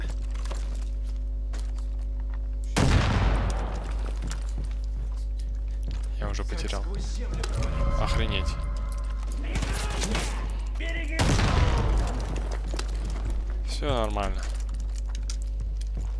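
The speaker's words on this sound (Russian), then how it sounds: "Тихо, откуда здесь стреляют? Кто стреляет?" Scattered gunshots and bursts ring out in Far Cry 5, several sharp loud shots spread across the stretch over a steady low hum, with some faint clicking and a voice speaking.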